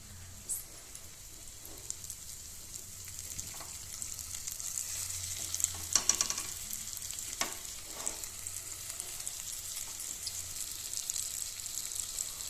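Fish frying in smoking-hot oil gives a steady, close sizzle with scattered crackles and pops running throughout, with no voices over it.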